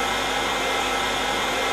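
ZUBR FT-P1600 heat gun running on its higher setting, a steady loud blowing whoosh with an even fan whine, close and continuous with no speech.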